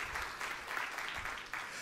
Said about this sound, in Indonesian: Ya, tepuk tangan yang meriah untuk kemuliaan nama Tuhan.